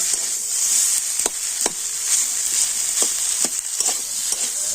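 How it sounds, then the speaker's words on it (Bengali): Boiled potato stirred in hot oil in a pan for a potato curry, a steady bright sizzle with several sharp scraping stirs spaced through the close, loud frying. "আলুটা তো ওই তেলের উপরে আমি হালকা করে নাড়াচাড়া করে নেব"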